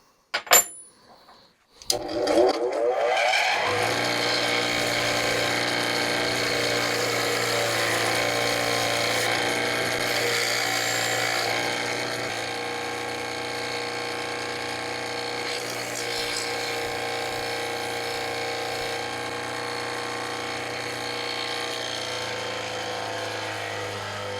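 A wire wheel on a Di-acro setup runs up to speed and spins steadily while it cleans metal fingers from a finger brake. The hum is loud, continuous and close, and it eases off slightly partway through.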